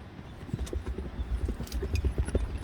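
Horse hooves clip-clop in a quick, uneven rhythm, close and fairly loud, a dense run of hoof strikes on hard ground lasting under three seconds.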